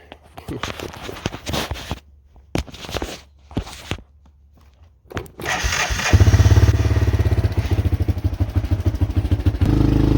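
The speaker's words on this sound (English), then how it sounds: "I guess we'll do a cold start on the little Honda here too." Footsteps and clattering handling noises lead into the cold start of a small old Honda motorcycle, which cranks and catches, then settles into a loud, close, steady chugging idle.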